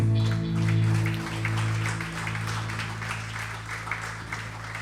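Congregation applause during a Spanish-language Sunday worship service in church, moderate clapping over lingering sustained organ or keyboard tones that fade out.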